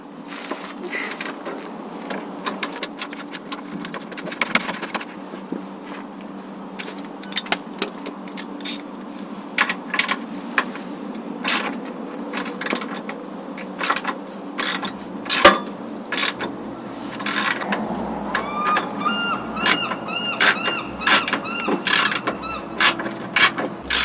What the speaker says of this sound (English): after you break that nut loose and start backing it off the threads